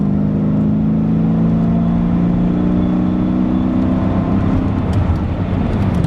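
A 2001 Mercedes E55 AMG wagon (W210) engine revs up hard with rising harmonic tones as the automatic transmission kicks down and accelerates strongly, loud and close, steady roar throughout.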